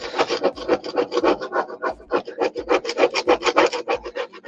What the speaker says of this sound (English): I also sharpen the end of it for scraping all the old glue and stuff off